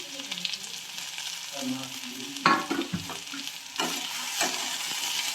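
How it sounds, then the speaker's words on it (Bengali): Chopped onions sizzle in a hot pan, with prawns and banana stem cooking in a rustic village dish, joined by a few close scraping stirs of a spatula over a steady frying hiss. "এবার আমি এখানে একটু পেঁয়াজ দেবো, পেঁয়াজ কুচানো ছিল, এই পেঁয়াজগুলো দিয়ে দিলাম"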